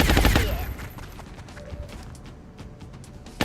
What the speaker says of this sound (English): Firing shredder rocket.